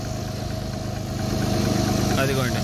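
A John Deere tractor with narrow tyres idles nearby in a steady, low rumbling drone that holds throughout, with voices talking over it.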